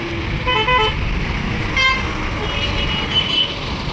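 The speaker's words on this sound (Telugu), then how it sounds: "మొత్తం ట్రాఫిక్ జామ్ అయిపోయింది" Lorry horns toot repeatedly through a highway traffic jam, several honks at middle distance over a constant rumble of idling and creeping trucks, with a person talking now and then.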